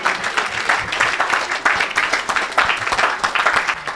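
Church congregation applauding to acclaim the Lord, steady rhythmic clapping from many hands at moderate loudness, continuous without talk.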